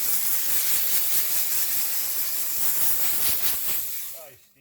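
A Vapor Rino 200 PSI commercial steam cleaner sprays steady hissing steam onto a carpet rug, loud and continuous close by, then cuts off and fades at the end.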